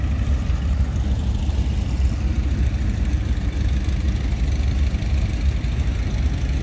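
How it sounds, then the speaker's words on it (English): A vintage tractor idles at an outdoor steam and gas engine show in Baraboo, Wisconsin, its engine a steady, loud low rumble with an even, unbroken throb. "One of my bucket list tractors, guys."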